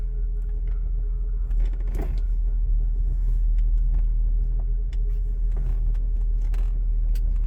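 A Buick engine with decimated motor mounts runs roughly at idle, giving a steady close low rumble scattered with faint irregular clicks and knocks.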